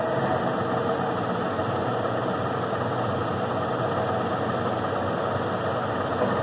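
A Carlton 6 ft by 17 in radial arm drill runs steadily in a newly changed gear, giving a continuous, even mechanical hum and whine at constant loudness, alone without talk.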